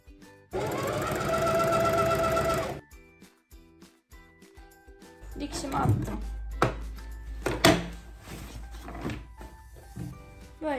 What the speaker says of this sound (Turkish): Üstünden bir dikiş atıyorum.